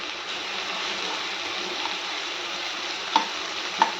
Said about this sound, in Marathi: आता आपण ही आलं लसणाची पेस्ट टाकू.